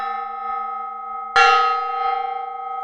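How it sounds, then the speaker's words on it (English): A single gong strike rings out once over a steady sustained metallic hum, its bright shimmering tone decaying slowly afterward; no voices are heard. "Aristophan and Bald Ridge also want me to hit that gong."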